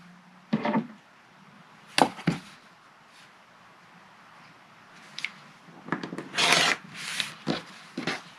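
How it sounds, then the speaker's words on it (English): A rotary cutter slicing through sewn quilting fabric along a ruler, giving a few short, crisp scraping cuts, separate strokes with pauses between them, close and fairly quiet. "now we're going to take our rotary cutter and ruler and cut on the drawn line"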